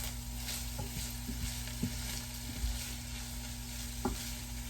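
Sausage and onion cooking in oil over low heat, a gentle continuous sizzle with occasional soft knocks and scrapes of a utensil, close by, no talking.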